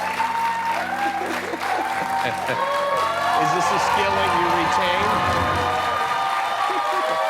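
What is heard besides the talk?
studio audience cheering and applauding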